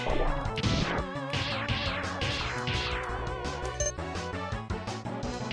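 A crash from the Storm Eagle stage in the Mega Man X video game: a loud burst of impact and smashing noise mixed over busy game music.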